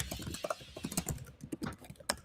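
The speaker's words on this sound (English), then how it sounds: "Listen to him. He's typing like a madman." Rapid, irregular clicking of fingers typing on a computer keyboard at a sewing community gathering, with bursts of keystrokes close to the microphone and no talk.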